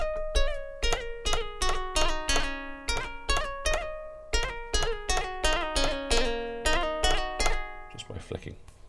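A Korg Minilogue XD synth running the Pluck v2 patch plays a run of sharp plucked notes in steady rhythm, several bent upward and downward for an oriental flavour, close and clear with no talking.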